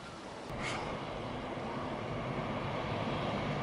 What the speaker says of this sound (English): Oh, I just heard a train siren.